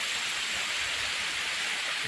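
Water overflowing a full check dam after a heavy rainy season, a steady, dense rushing hiss of falling water, continuous and fairly close, with no speech.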